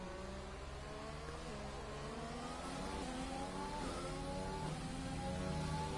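Race cars in a video game lap the Canadian GP circuit, several engines revving and shifting in rising and falling pitch sweeps, a continuous close roar with no pauses.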